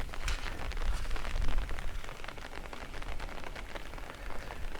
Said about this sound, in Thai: สภาพอากาศเนาะจะว่าในเซสมบูรณ์ก็เฮ็ดให้ฝนตกกันตกต่อเนื่องเลย